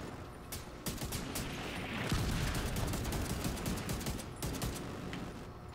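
Gunfire in The Division 2 during the Capitol Building mission: rapid bursts of shots crack repeatedly over a constant din of combat, fairly close and sustained throughout.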